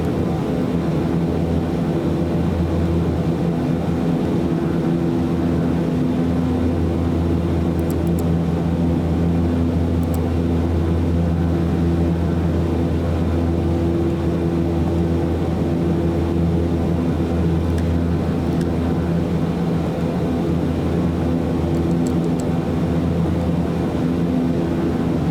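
In Microsoft Flight Simulator 2024, the Black Square Starship's engines hold takeoff power in a loud, steady, unbroken turboprop drone with a constant tone throughout.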